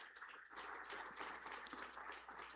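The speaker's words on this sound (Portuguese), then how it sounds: "aplaudindo o Senhor, com força agora" A church congregation applauds the Lord together during worship, a steady wash of clapping that holds loud and even for the whole stretch, with no voices standing out above it.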